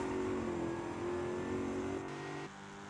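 1995 Corvette engine in the Forza Horizon 5 racing game, a steady loud droning hum at a constant pitch that drops slightly near the end, close and continuous with no voices.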